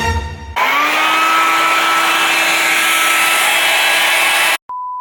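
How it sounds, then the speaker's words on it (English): A hair dryer blows on hair at home, starting abruptly with a loud, steady whirring rush and a high motor whine that holds for about four seconds before cutting off, leaving a faint tone afterward. "I just want to put the hairdryer on and just dry it."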